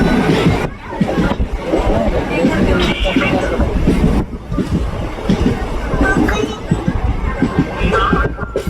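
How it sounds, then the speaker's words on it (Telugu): A train pulls out with a steady rumble and rhythmic clatter of wheels on rails, loud and close, while a crowd of people chatters in the background. "బండి 2:30 బాబు బయలుదేరింది అమ్మ."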